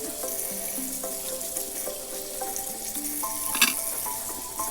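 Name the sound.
washing zucchini under running tap water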